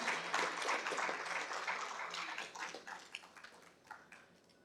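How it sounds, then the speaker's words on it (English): Audience applause at a manufacturing business summit in Mumbai, a dense wash of clapping that is strongest at first and thins out toward the end, fairly quiet and heard from a distance. "Let's give them a huge, huge round of applause"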